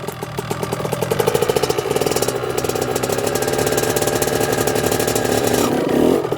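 A car engine runs steadily at low to mid revs while a learner driver works the clutch into first gear, a continuous rumble with slight swelling near the end; no talk over it.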